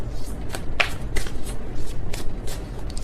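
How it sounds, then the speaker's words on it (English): A deck of tarot cards shuffled by hand a little sloppily, a run of quick, crisp riffling bursts with soft flutters between them, close up, with no talking. "That was kind of a sloppy shuffle"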